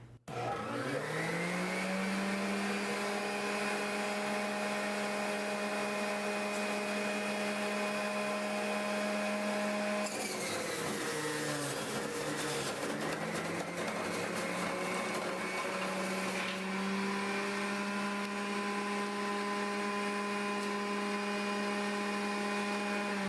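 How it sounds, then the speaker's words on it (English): A Hamilton Beach Big Mouth juice extractor runs loud and steady as it juices three medium carrots, its motor whine holding a constant pitch. Partway through, the tone dips and roughens as the carrots are pushed into the spinning blade, then it settles back. "Next, I'm going to juice 3 medium carrots, and they'll all fit in here at the same time."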